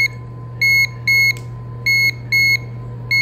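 A GFCI receptacle tester beeper sounds four short, evenly spaced electronic beeps, clear and close, over a steady low electrical hum.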